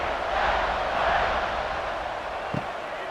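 A stadium crowd in the video game EA College Football 26 buzzes during a West Virginia at UCF kickoff, a steady broad roar with one brief thump near the end.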